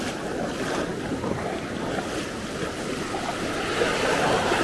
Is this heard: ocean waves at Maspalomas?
yes